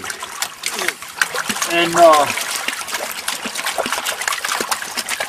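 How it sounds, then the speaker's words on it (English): Water swirls and splashes in a gold pan during prospecting, a close, busy sloshing with trickles and splatters, as someone speaks over the start. "And then I'll start my panning."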